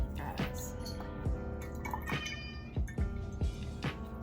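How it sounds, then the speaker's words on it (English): An 8-month-old cat meows several times in short repeated calls, faint and somewhat distant, over a low background hum. "I apologize for my cat in the background."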